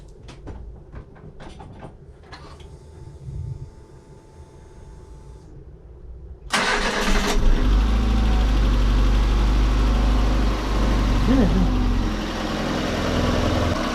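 A few clicks and a starter crank, then a VAZ 21099 engine fires up and settles into a loud, steady, rumbling idle close by.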